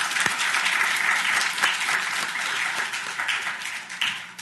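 A room full of people claps for organisers at a law school event on Dr. King, steady dense applause with a few crisp individual claps standing out, fading gradually near the end.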